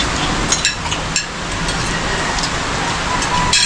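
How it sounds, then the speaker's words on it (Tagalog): Rain pours steadily outside a house in the Philippines, a loud continuous hiss with occasional sharper drops or knocks, close and unbroken. "Ulan yan."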